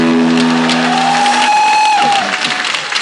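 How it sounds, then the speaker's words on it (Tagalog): Loud applause from a church congregation at an El Shaddai gathering, dense steady clapping that fills the space throughout, with a sustained musical tone sounding beneath it before the clapping thins slightly near the end. "Malakas na palakpak"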